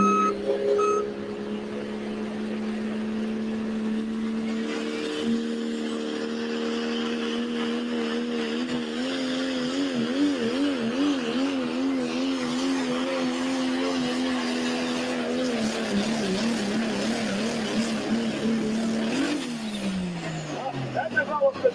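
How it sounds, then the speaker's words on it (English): A diesel pulling tractor at a tractor pull roars steadily at full power, its exhaust note wavering and turning rougher toward the end of the run from a piston-area problem, with a crowd and announcer talking beneath it. "That develops a different exhaust note towards the end of the run."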